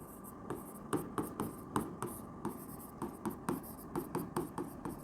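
Chalk or marker strokes on a board during a chemistry lesson, a steady run of short scratchy taps and scrapes about twice a second, close and clear with no talking over it.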